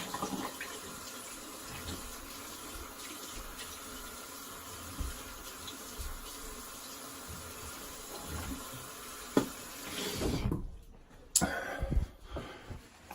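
Rinsing under a running tap, a steady hiss of flowing water that continues for most of the stretch before breaking into a few louder splashes and clatters near the end.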